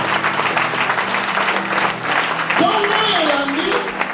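A church congregation applauding during a service, a steady, loud wash of clapping that fills the whole moment, with voices and a faint tonal sound mixed in partway through.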